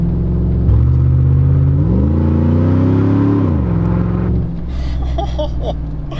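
An older Chevrolet Silverado with a 5.3L V8 and a performance programmer revs up under load with a rising engine drone, then drops in pitch at a sharp gear change and settles into a lower rumble.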